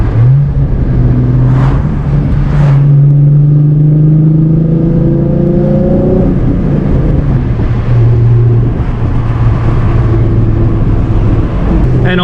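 A 2008 Ford Mustang V6 driving on a county road, its engine note rising in pitch through several acceleration pulls and shifts, steady and close from inside the car, with no talking.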